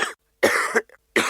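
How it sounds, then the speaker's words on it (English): Three close coughs from one person in a throat drop advertisement, each a short rough burst with brief silent gaps between, plus a small throat sound near the end. "Cough and cold season is here."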